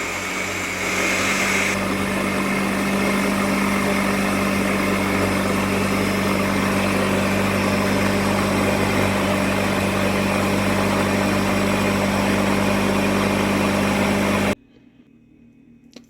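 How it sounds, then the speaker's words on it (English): A kitchen blender runs on low speed through blueberry muffin batter made without flour, giving a loud, steady motor drone with no break for about fourteen seconds before it cuts off abruptly into quiet. "it's going to get loud here. We're going to blend it until it is blended. Start with low."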